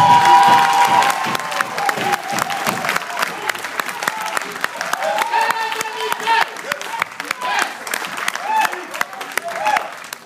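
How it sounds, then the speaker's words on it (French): A church congregation applauds and cheers at a worship service, with dense, steady clapping and raised voices filling the room for the whole stretch and a musical tone underneath. "Est-ce qu'on peut acclamer notre Dieu?"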